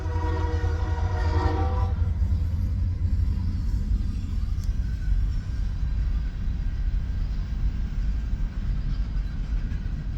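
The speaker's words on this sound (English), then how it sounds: "Sorry, this train's loud as hell. This is the third train." A freight train passes close by, its loud steady rumble and rolling clatter filling the whole stretch, with a horn sounding early on, and no voices over it.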